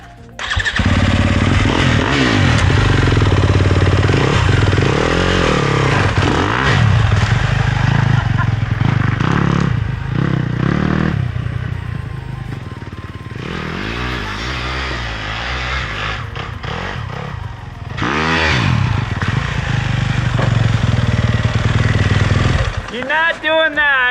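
Dirt bike fitted with a Vulcan Duro tire carrying 100 Kavonics number 180 ice studs, riding on winter ground: a loud, close engine revving and surging continuously, with pitch swells and dips, and voices talking over it.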